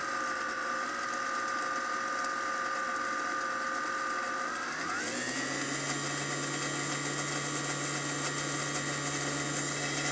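A food processor's steady mechanical whir runs throughout as oil is slowly drizzled in to make mayonnaise, its pitch dropping and settling into a lower, heavier drone about halfway through as the load changes.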